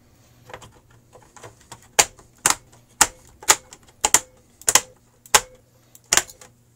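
RAM sticks click into the memory slots of an Apple Xserve server, giving a series of sharp, close snaps, about eight distinct clicks spaced roughly half a second apart after some softer handling noises, with no talking.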